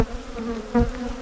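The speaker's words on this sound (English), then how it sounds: "This is what aggressive bees do." Defensive honeybees at a hive make a dense, close buzzing drone with a steady hum and a brief louder swell as one passes near.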